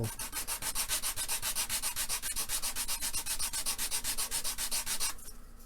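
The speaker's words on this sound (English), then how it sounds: "sand that down, and there we go" Sandpaper rubs a small part of a model glider airplane in fast, even back-and-forth strokes, close and fairly quiet, stopping just before the end.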